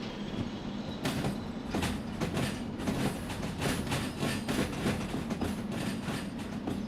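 A loose-coupled German steam train shunts in the railway game Derail Valley, with a steady rolling rumble punctuated by repeated sharp clanks and knocks of wagons bumping, fairly loud and without speech.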